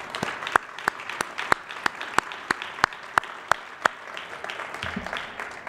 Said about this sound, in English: So I would ask if we could give everyone at Massport a round of applause.